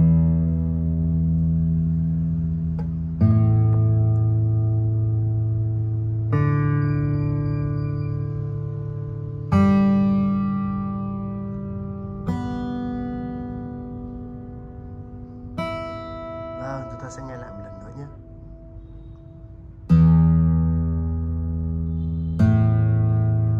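Strings of a custom-made rosewood acoustic guitar are plucked one at a time, each note ringing out and decaying before the next, close and clear across a slow sequence of separate tones with no talking.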